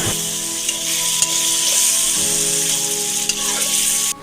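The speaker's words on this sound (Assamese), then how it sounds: "প্ৰথমতে চিকেনখিনি ভালকৈ ফ্ৰাই কৰি ল'ম, যিখিনি মই মেৰিনেট কৰি থৈছিলোঁ।" Marinated chicken fries in a pan with a dense, steady sizzle and crackle throughout, punctuated by a few soft clinks and scrapes of stirring, close and without talk.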